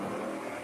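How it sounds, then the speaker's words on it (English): A loud car at a drag race, heard as a steady, dense engine roar that fills the brief moment without any letup. "loud car."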